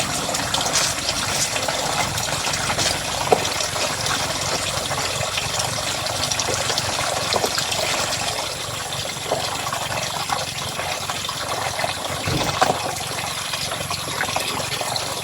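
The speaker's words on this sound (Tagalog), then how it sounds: "Sinasala po yung tubig bago pupunta po sa labas ng ano" Water running steadily through a filter and flowing out into a basin, a continuous close, even gush and trickle with no talking.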